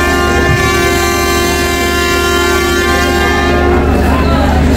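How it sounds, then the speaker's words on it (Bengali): The passenger launch Karnaphuli sounds its deep, sustained whistle at the Bhola ferry ghat before leaving for Dhaka, a loud steady horn tone holding nearly the whole time amid riverside noise. "কর্ণফুলী হুইসেল দিচ্ছে, কিছুক্ষণের ভিতরেই ভোলা খেয়াঘাট ত্যাগ করে ঢাকার উদ্দেশ্যে রওনা করবে"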